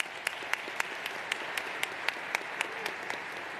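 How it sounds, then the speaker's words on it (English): Sparse, evenly spaced claps ring out in a conference hall after a paper announcement, a slow, faint, nearly rhythmic applause with single sharp hits standing clear above a quiet room. "A round of applause."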